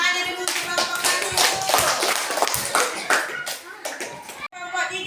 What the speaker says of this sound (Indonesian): Kasih tepuk tangannya dulu untuk kelompok 1.